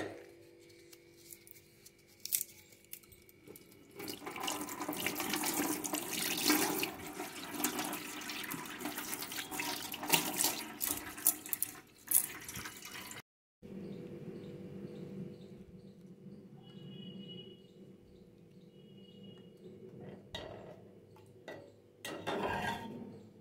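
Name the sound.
washing cardamom and bay leaves in water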